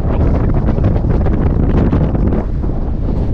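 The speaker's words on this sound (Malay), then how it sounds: "dengan angin yang begitu kuat" Strong wind buffets the microphone at a steep canyon overlook near Makkah, a loud, constant roaring rumble with no break and no voices.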